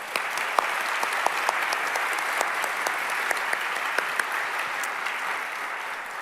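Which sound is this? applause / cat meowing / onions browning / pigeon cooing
applause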